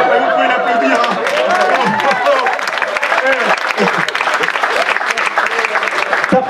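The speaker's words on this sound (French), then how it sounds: "Vous pouvez l'applaudir." A crowd applauds loudly and steadily, dense clapping mixed with lively chatter and some laughter throughout.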